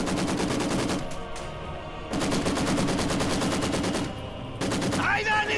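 Machine-gun fire rattles through a 2v2 Company of Heroes 2 match in rapid, loud, close bursts separated by brief pauses, with a voice briefly heard near the end.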